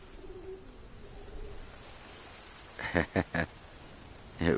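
A bird coos several times in the Green Hell survival video game: a few soft, short notes in a quick run partway through, then one more coo at the end, over faint ambient jungle noise.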